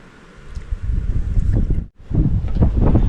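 Gusty wind buffeting the microphone with loud low rumbling, briefly dropping out before blowing strongly again.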